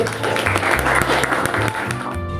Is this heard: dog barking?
no